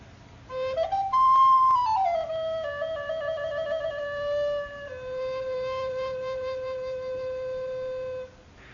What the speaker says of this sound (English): Now, there's not only the alto recorder, which is the mid-range one, the most popular one, which sounds like this.